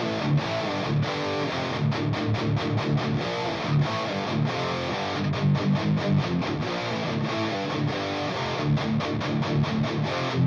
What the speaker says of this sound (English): I changed the amp to Engel